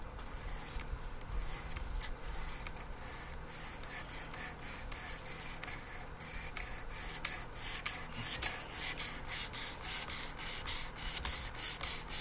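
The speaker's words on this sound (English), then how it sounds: "we're going to switch over to the 600 now and start refining this edge" Work Sharp knife sharpener refining a blade edge at 600 grit: a quiet, hissing rub of steel on abrasive, repeated in steady short strokes that grow more regular and rhythmic toward the end.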